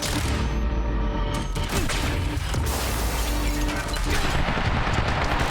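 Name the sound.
gunfire in Quantum Break video game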